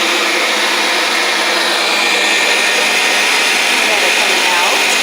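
An electric meat grinder whirs continuously as it grinds beef with fat, a steady loud motor hum with a whiny, airy tone, close by and unbroken.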